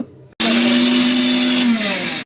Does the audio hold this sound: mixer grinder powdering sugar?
yes